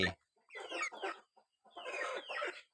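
Four young chicks of a Thai fighting-cock bloodline, one male and three females, cluck and chirp in two short bursts separated by a pause, fairly close and with no talk over them.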